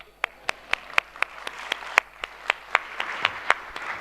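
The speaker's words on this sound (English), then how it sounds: "Maybe he wanted a second applause." Sparse, evenly spaced claps ring out in a quiet conference hall at a Cedefop 50th anniversary event, a brief second round of applause for a speaker, with about one sharp clap every quarter second.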